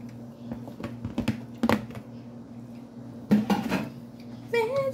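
A utensil scrapes and clanks against a cooking pan while pancit is tossed and mixed, giving scattered irregular metallic knocks at moderate loudness in a quiet kitchen.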